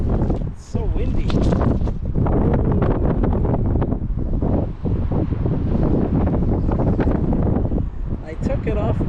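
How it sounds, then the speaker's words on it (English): Strong wind by a river buffets the microphone in a loud, continuous roar that surges and dips, with hardly a break. "It's so windy."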